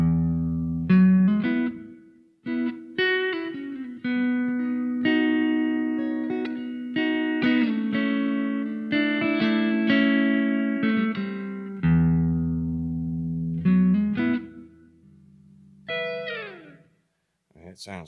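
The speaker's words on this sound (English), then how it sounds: "if you want a really nice Strat sound, try this" A Stratocaster electric guitar played through an LPD Eighty7 set to recommended settings, ringing out sustained clean chords and single notes in a steady flowing phrase, with brief pauses near the end and no voices.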